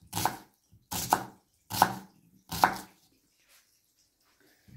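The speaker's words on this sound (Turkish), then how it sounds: "soğanlarımızı çok ince de değil, çok kalın da değil doğruyoruz" Onions are chopped with a knife on a board, four sharp, evenly spaced cuts followed by a quiet pause.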